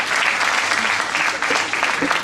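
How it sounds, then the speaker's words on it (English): Audience at an annual Kwanzaa celebration at a spiritual centre applauds steadily, a dense, sustained round of clapping from a crowd filling the whole moment. "Does that just give a round of applause?"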